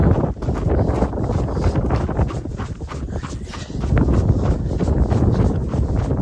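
Gusty wind on a Montana running trail buffets the microphone in continuous rough rumbles, rising and falling, with faint thuds underneath and no one speaking.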